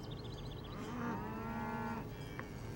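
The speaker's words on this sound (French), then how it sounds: "Des vaches!" Cattle mooing near a roadside, a drawn-out low moo rising and holding for about a second, with another animal call and a light rumble of background noise around it.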